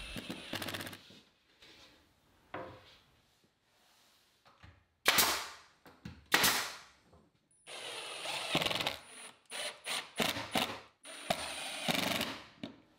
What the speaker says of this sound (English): tack the parts in place with a nail gun before using 3/4-inch screws for the stronger joint